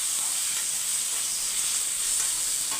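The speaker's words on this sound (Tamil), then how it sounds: "ஒரு ரெண்டு ஸ்பூன் இஞ்சி பூண்டு விழுது போட்டு வதக்கிக்கோங்க" Ginger garlic paste sautés in hot oil for Chettinad chicken with an even, close sizzle and hiss throughout, with only a few soft stirring touches and no talking.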